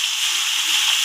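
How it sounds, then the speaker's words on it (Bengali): Water being poured into a pan while cooking Bengali shukto, a steady hissing, sloshing rush that holds at an even level for the whole second, close by and alone. "জল দিয়ে দিলাম।"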